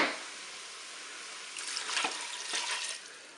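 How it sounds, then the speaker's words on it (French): Water poured into a Cookeo multicooker pot over farfalle pasta: a soft, steady hiss that swells into a louder splashing gush for about a second and a half, then fades. "Maintenant, je vais ajouter de l'eau."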